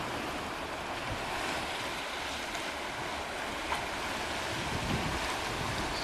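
Ocean waves washing over tide pools at Otter Point, Maine, as the tide comes in: a steady, broad surf wash with wind rumble on the microphone, continuous and fairly close, no voices.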